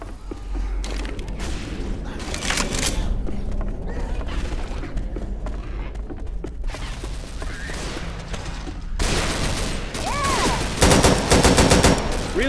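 Pistol and other gunfire in the Left 4 Dead 2 video game, with rapid repeated shots, mechanical clicks and bangs through the whole stretch, louder and denser toward the end, and a few short spoken lines mixed in.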